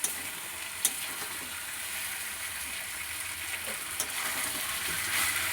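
Chicken pieces frying in oil while being cooked down for a thin curry, with a steady close sizzle and a few sharp crackles and scraping stirs along the way.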